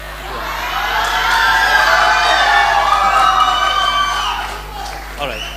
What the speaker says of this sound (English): Whenever they're cheering for me